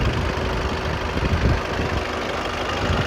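A 2019 Volkswagen Arteon diesel idles with its engine bay open during a used-car inspection, giving a steady, close, low rumbling drone with slight diesel shake and no talk.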